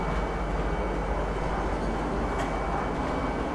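A train pulling into Tisa Spaceport in the Star Citizen video game, a steady loud rumbling roar of the train running without pause, with no talking.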